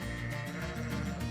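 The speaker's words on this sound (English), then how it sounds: "let's go ahead and harvest some sheep" Video game sheep bleat while being harvested in Teddys Haven, a loud, close, wavering bleat held over the whole moment with game sounds beneath.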